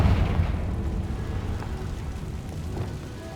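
Confringo fire spell blast in the video game Hogwarts Legacy: a loud booming explosion at the start that rolls into a sustained rumbling, crackling tail, fading slowly.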